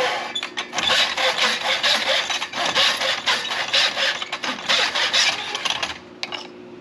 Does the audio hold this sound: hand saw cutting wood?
yes